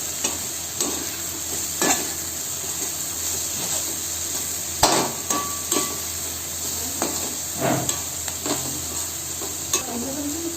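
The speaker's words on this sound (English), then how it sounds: "So I'm adding the cabbage also and saute all together." Cabbage and mixed vegetables for veg fried rice sauté in a hot pan, with a constant sizzle and hiss punctuated by sharp spatula scrapes and clanks against the metal at irregular intervals.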